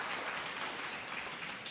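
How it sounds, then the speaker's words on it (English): Brief, fairly faint applause rises from the audience at a women's singles table tennis semifinal in Los Angeles, a dense even patter of clapping. "Maverick applauds."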